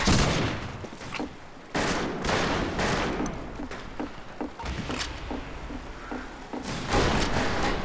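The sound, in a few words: gunfire in video game Fistful of Frags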